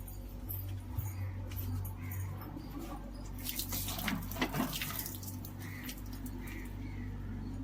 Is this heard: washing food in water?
yes